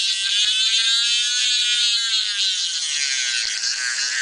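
A levity ball neomagnet motor, a simple circuit-driven spinner sitting in a little oil, whirs at high speed, around 12,000 to 15,000 RPM, with a steady, piercing high-pitched whine that drifts slightly in pitch, close and continuous.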